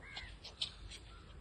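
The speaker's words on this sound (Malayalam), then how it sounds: "പക്ഷെ ഇതിനെയാണ് കാക്കകൾ നശിപ്പിക്കുന്നത്" A few faint crow caws sound from a distance, short harsh calls spaced irregularly over quiet outdoor background.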